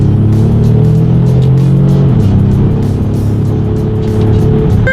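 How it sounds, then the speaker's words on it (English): A 2019 Ford Explorer, a three-row SUV with a twin-turbo V6, accelerates hard under paddle-shift control, its engine droning loud and steady from inside the cabin, with the pitch dropping briefly at a gear change midway. "The acceleration is definitely on point, especially for a 3-row SUV."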